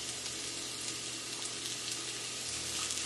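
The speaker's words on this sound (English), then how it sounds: "now I'm going to add my onions, and I'm going to saute these for about 2 minutes" Onions sautéing in a hot pan for shakshuka, a steady, even sizzle with fine crackle that holds at a constant level throughout, close by and without talk.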